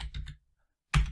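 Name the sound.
typing a name on a computer keyboard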